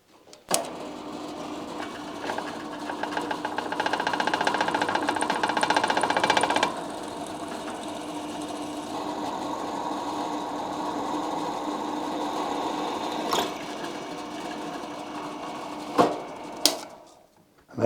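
A drill bores holes through a piece of scrap metal, giving a steady close whirring grind that runs for several seconds, eases to a lighter hum, and ends with a few sharp clicks and knocks.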